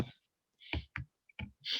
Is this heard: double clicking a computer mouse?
yes